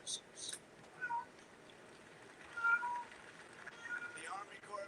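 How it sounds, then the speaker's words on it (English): A house cat meows a few times at home, faint and somewhat distant, short calls scattered across the stretch beneath a continuous background of broadcast talk. "I hear a kitty"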